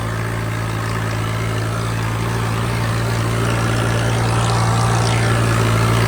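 Swaraj 855 tractor engine running at high speed while ploughing, a loud steady diesel drone with a strong low hum that holds without a break and swells slightly toward the end.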